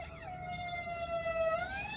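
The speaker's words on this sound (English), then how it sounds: "Oh, more ambulances passing by." An ambulance siren wails in a city street during the Los Angeles fires, one steady tone that sweeps down and later rises again, moderately distant over low traffic rumble.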